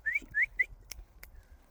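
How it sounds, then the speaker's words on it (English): A person on a dog walk whistles to call a dog: three short rising whistles in quick succession, close and clear, followed by a couple of sharp clicks and a faint trailing whistle. "Sorry about the whistling."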